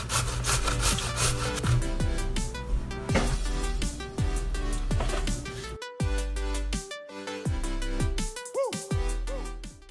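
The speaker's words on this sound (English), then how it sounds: "I take an English cucumber, grate it, and as you're grating, turn it." An English cucumber is grated by hand on a grater, making steady, rhythmic rasping strokes that sound close and loud throughout, with no talking.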